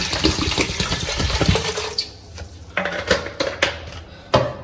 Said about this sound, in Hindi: तो 4 कप पानी डालने लगी।